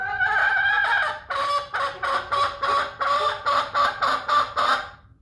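Chickens give a run of loud, close squawking calls, at first long and drawn out, then settling into about ten evenly spaced bursts, with no talk over them.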